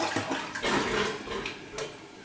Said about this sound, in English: We can give it a big flush just to check it.